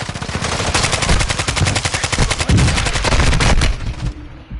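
Sustained rapid automatic gunfire in a Call of Duty video game, loud and close, with dense repeated shots that cut off sharply near the end.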